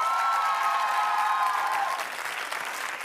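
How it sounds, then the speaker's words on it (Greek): A studio audience at a Greek TV entertainment show applauds steadily and loudly, dense clapping holding for about two seconds before easing slightly, with faint steady tones running underneath. "Ένα χειροκρότημα."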